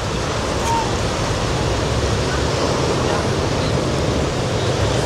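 Ocean surf at Siargao washes in as a continuous broadband roar, loud and steady throughout, with a brief voice faintly underneath.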